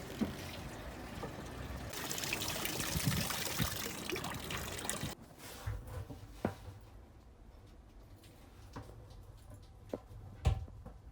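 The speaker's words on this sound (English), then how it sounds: "The bilge is pumping out all the water that's pouring in here." Bilge pump on a boat discharging water that is leaking in, a steady rushing trickle and pour that grows loud for a few seconds, then drops to faint dribbles with scattered ticks.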